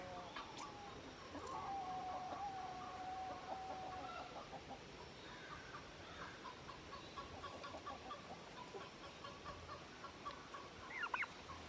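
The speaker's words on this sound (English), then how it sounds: "that's the mornings with the turkeys" Turkeys clucking and calling on a morning at a farm, a steady chorus of short bird calls across the whole stretch with a few louder cries near the end, a voice speaking faintly underneath.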